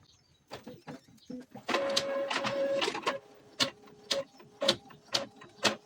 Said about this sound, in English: Now let's try printing again.